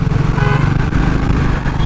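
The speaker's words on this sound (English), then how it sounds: "Actually like the exhaust note," Triumph Speed T4 motorcycle exhaust rumbles steadily, a loud, deep and bassy engine note close by with no voices.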